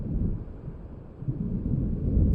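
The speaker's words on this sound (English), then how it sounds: "It seems there's a storm coming." Deep, rolling thunder from an approaching storm in a video game, a continuous low rumble that swells and ebbs over a couple of seconds, heard alone without voices.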